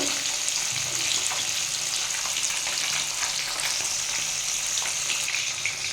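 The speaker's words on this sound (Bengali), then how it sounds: "আমার তেলটা গরম হয়ে গেছিল আমি মাছগুলো দিয়ে দিয়েছি মাছটা ভেজে নেব" Fish frying in hot oil for a light fish curry with potato and pointed gourd gives a steady, close crackling sizzle that stays even throughout, with no voices.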